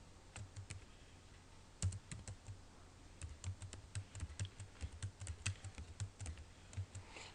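Quiet, steady typing of numbers on a computer keyboard, a string of soft, irregular key clicks with one slightly louder tap, in a calm room with no talk.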